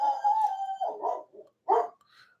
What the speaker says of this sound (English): Gilbert's out there barking